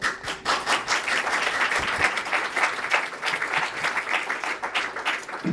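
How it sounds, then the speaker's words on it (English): Panelists at an investor panel event receive a round of audience applause: continuous, full-room clapping at moderate volume, with no speech over it. "some applause for Alan and for Chairman Sterling"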